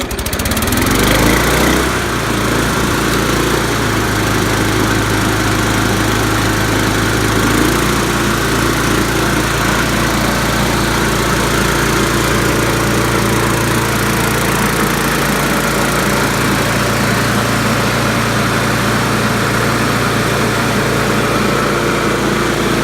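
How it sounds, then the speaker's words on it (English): A 1997 Murray 22-inch 2-in-1 push mower with mulch plate starts up and runs steadily, its small engine droning loud and close throughout with a slight shift in pitch partway. "here's the start of the 1997 Murray 22-inch 2-in-1 with mulch plate"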